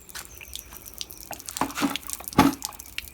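Water trickles and drips from an outdoor garden tap supplied by a rainwater butt, giving irregular close splashes and spatters over a few seconds with no speech.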